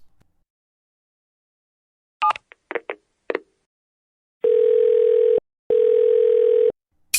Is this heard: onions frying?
no